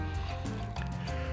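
Water from 1.5-litre plastic bottles poured into small clay cooking pots, a steady, close liquid gurgle and fill with shifting pitch and no talk.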